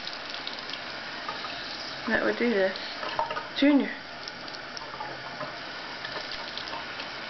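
Water running from a household tap: a steady, faint rush of flow continuing throughout, with someone talking briefly over it.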